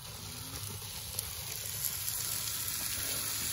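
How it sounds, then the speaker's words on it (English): Steak, lamb, peppers and onions sizzle and fry on a campsite grill in the woods, a steady close crackling hiss that holds throughout with no talking. "we got different kinds of steak going"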